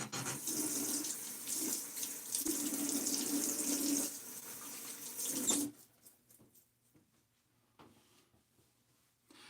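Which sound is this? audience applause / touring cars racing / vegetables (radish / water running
water running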